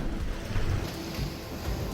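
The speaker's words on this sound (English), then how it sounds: "swell's coming this way on our right, so the more we come around, the more it hits us beam on" Ocean swell slaps beam-on against the hull of a sailing boat at sea off Flinders Island, producing dull, recurring low thuds and washes under steady wind rush.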